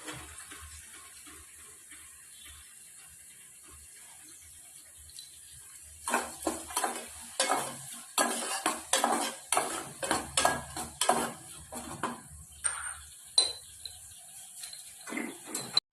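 Onions frying with a little salt in a pan, stirred with a utensil: after a quiet stretch, repeated clattering scrapes and clinks of spoon against pan with a soft hiss, fairly close.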